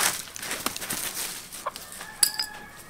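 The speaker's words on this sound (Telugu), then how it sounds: "కోడి ఉంది ఉత్తగత్తది ఎత్తుకొని పోతా." Chicken clucking in a village setting, a few short, separate calls rising over quiet outdoor background noise, with no talk in between.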